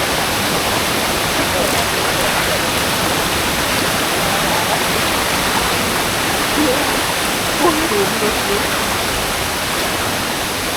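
Waterfall and fast-flowing stream water at a natural forest falls, a loud continuous broadband rush filling the whole scene with no breaks, steady throughout.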